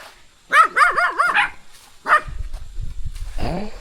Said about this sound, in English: Hello, little dog.